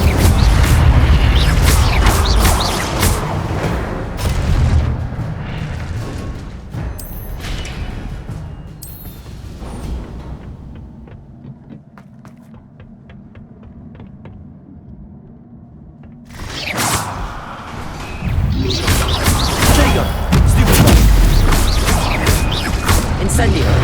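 Fiery Incendio spell blasts from the Hogwarts Legacy video game, loud rumbling bursts and crackling impacts in the first half, dropping to a quieter stretch with a low hum, then returning to dense booming blasts, with speech heard throughout.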